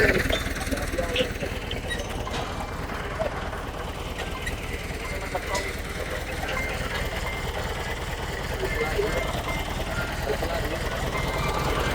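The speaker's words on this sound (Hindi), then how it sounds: "ज़मींदार एग्रो की डिस्क हैरो की वर्किंग आपके सामने ही है।" A tractor drawing a Zamindar Agro disc harrow works a farm field, giving off a steady, loud mechanical drone with rattling throughout, heard close and alone.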